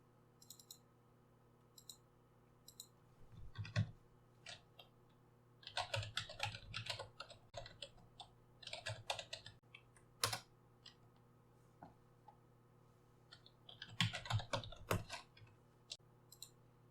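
Java code typed on a computer keyboard in bursts of rapid, close key clicks separated by short pauses, with no voices.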